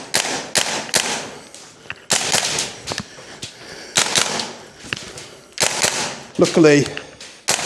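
A VFC G36C V2 gas blowback airsoft rifle fires sharp, cracking shots in short bursts and singles, each followed by a brief mechanical clack, while someone talks between them.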